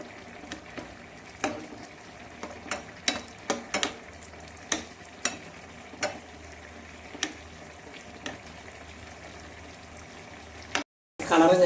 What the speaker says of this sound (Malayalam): ഇനി നമ്മൾ ആ നെയ്യിലേക്ക് തന്നെ നമ്മൾ എടുത്ത് വെച്ച കാഷ്നട്ട് അണ്ടിപ്പരിപ്പ് അതിട്ട് കൊടുക്കുക.